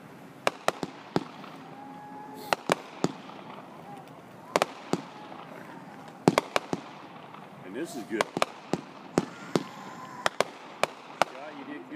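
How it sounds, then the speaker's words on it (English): Small backyard fireworks at a New Year's Eve show pop and crackle in sharp, irregular bursts, some in quick clusters, fairly close by, while people chat and comment over them. "These are baby fireworks."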